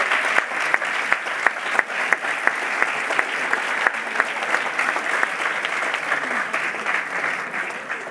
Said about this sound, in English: a big round of applause for all that they've done for you